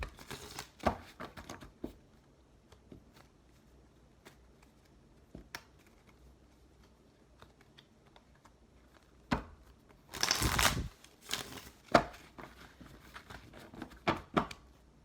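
Tarot cards are shuffled in a quiet room: faint scattered ticks and taps, then a brief burst of riffling and a few soft card slaps near the end.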